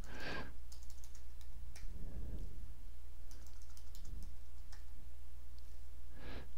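Typing on a computer keyboard in a quiet room, a scattered run of light clicking keystrokes heard close, with a few soft knocks and a steady low hum underneath.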